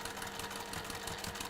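A sewing machine stitching fabric for a quilt block, a steady fast mechanical whir with rapid regular needle ticks, close and continuous with no talking.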